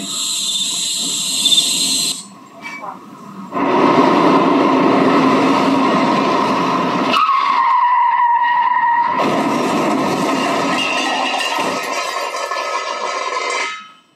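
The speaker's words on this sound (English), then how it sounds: "The car skidded in the side railing with force." A stage sound effect of a car speeding and skidding into a roadside railing at a school annual day show, loud engine roar broken by a long tyre screech, dropping out briefly before the rushing noise resumes and cuts off.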